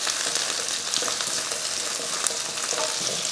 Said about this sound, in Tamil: ரெண்டு பெரிய வெங்காயம் வெங்காயத்தையும் நல்லா வதக்கிடுவோம்